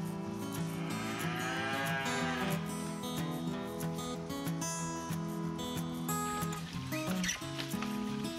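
Cattle lowing near a shaded forest edge on a hot day, a long drawn-out moo rising over a dense, continuous bed of farm background sound, with no talking.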